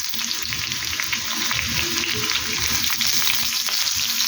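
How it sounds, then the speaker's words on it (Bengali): Sliced potatoes and onion fry in a pan with a loud, continuous sizzle and crackle, broken by occasional stirring scrapes. "পেঁয়াজটা আলুটার সাথে একদম ভালো করে ভেজে নেব"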